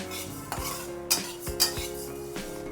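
A spoon stirs and lightly roasts chakli flour in a kadhai, with a few distinct metallic clinks and scrapes over a steady tonal background, close by with no talking.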